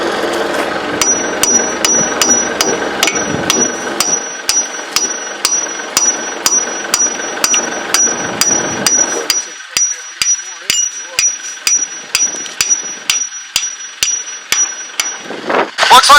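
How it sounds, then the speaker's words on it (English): A big hammer strikes steel again and again during installation of a Case 1150 dozer transmission, sharp metallic blows landing in a steady rhythm, first over machine noise and then in a quieter stretch. "Let me get the big hammer."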